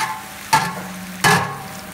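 Chopped onion hitting melted butter in a pan, two short bursts of sizzling and stirring close up, with a quieter background hiss between them.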